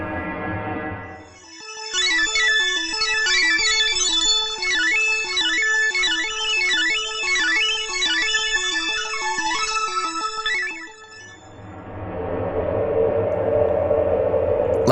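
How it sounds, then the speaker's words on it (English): A bright, chiptune-like MIDI tune with a bouncing bass line and quick warbling melody plays loud and steady for about nine seconds, framed by bursts of harsh broadband noise at the start and end. "Translating the audio gives us what sounds like a MIDI song."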